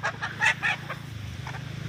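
Local chickens cluck close by in a quick series of short, bright calls over a low steady hum, with no talking.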